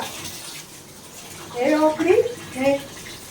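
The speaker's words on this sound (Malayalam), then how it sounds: "ചോറിന് നല്ലോണം കഴുകിയിട്ട് നമ്മൾ തിളപ്പിക്കുള്ളൂ" Rice is washed in water before boiling: soft splashing and sloshing rise in a short burst near the middle over a quiet background, with a voice faintly present.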